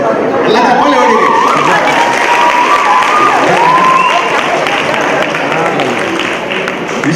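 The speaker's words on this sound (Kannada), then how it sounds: "ಎಲ್ಲ ಚಪ್ಪಾಳೆ ಹೊಡಿರಿ" Continuous loud applause from the audience at a 50th birthday golden jubilee celebration, crowd chatter and cheering running throughout under a voice amplified over a PA.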